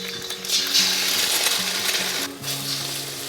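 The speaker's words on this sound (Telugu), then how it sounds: "కొంచెం ఆయిల్ వేస్తాను, ఎగ్ కూడా వేస్తున్నాను ఇందులో." Eggs, about two, go into hot oil in a pan and sizzle and crackle steadily and close up through the whole stretch, with faint utensil clinks and no talking.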